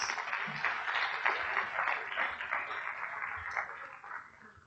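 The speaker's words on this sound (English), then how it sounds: "I'd really want you guys to give yourself a real round of applause for making this choice." A conference audience applauds in a dense, sustained wash of many hands clapping at once, fairly loud and gradually fading toward the end, with no voices over it.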